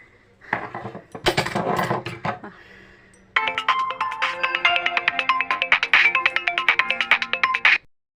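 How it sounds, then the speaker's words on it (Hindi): A mobile phone ringtone sounds for an incoming call during housework, a bright repeating melodic pattern of quick tones, preceded by brief clattering handling sounds. "मैं फोन आ गया किसी का,"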